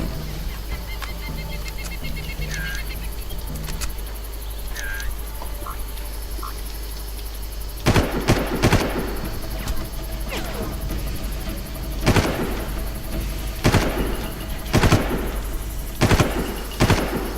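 Bursts of gunfire from the Far Cry video game, set in a jungle, ring out as sharp repeated shots in several clusters, growing louder and denser in the second half over a steady ambient background with chirping wildlife.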